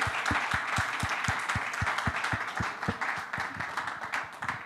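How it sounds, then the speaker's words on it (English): Audience applause at a climate policy session on the road to COP28, a steady crackle of many hands with clearly separated sharp claps up close, sustained and even for the whole stretch with no voices. "And congrats and applause to everybody."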